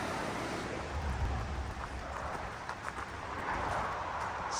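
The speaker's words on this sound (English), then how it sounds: "just because of the noise from the river" Steady rushing water fills the scene, a broad, continuous wash of a river flowing nearby at a campground in Willamette National Forest, Oregon, with faint wind noise mixed in.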